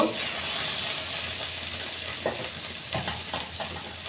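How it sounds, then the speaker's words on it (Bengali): Washed dried fish (shutki) frying in a pan at the side, a steady close sizzle and hiss with occasional light stirring scrapes, no voices. "এই শুটকিগুলো আমি সাইড দিয়ে ভেজে নিব"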